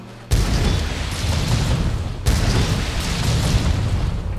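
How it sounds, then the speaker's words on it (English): A hefty fire explosion from the Gunlance's Wyvern's Fire move in Monster Hunter World Iceborne, two loud booming blasts about two seconds apart, each followed by a sustained roaring, crackling rumble. "if you do Wyvern's fire, it kicks off a pretty hefty explosion"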